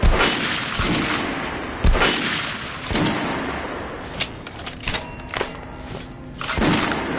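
Gunfire on a shooting range in the video game Metro Last Light, with several loud, close shots and short rapid bursts ringing out at uneven intervals, including a quick cluster of lighter pops mid-sequence.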